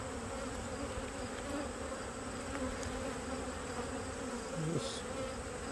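A dense, steady swarm of agitated honeybees drones continuously at an opened, crowded hive, a close and loud buzz with no talk over it.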